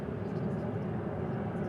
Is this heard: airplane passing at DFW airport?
yes